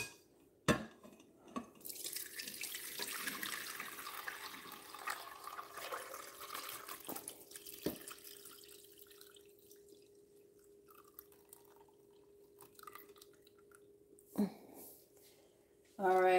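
Dark liquid from steeped dried sorrel is strained into a glass container, giving a stream of trickling, splashing water with clinks of glass and occasional sharp knocks, fairly close and moderately loud.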